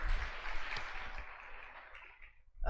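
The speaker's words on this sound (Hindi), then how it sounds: "आप सभी तालियों के साथ उनका स्वागत करें" Audience applause welcoming a guest speaker at the opening of a skill centre, a steady broadband wash of clapping that fades gradually over a few seconds before a voice starts at the end.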